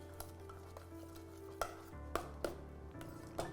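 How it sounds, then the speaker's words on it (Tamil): Corn flour halwa is stirred steadily in a pan, with a spoon scraping and tapping against the metal now and then. The sounds come as soft clinks and scrapes, quiet and close. "விடாமல் இப்படி கிண்டிகிட்டே இருந்தால் தான் அது அடி பிடிக்காமல் இருக்கும் நமக்கு."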